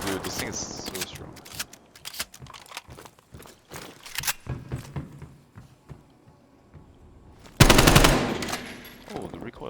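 A drum-magazine gun fired in a video game: rapid cracking bursts of automatic fire, with one loud, dense burst late on, mixed with shuffling game noise and a player's talk.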